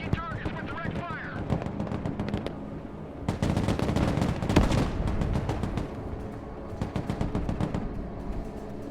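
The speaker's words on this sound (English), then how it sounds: "Engaging targets with direct fire." Direct-fire gunfire from units engaging targets in the modern warfare strategy game Broken Arrow: rapid machine-gun bursts and heavy cannon shots crack repeatedly, loud and fairly close, with game voice lines talking over parts of the fire.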